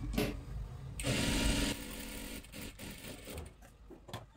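A sewing machine runs a double line of stitching along the marked seam of a kurti's tucks, its motor whirring in steady bursts with a louder, denser run in the middle and short pauses between stretches.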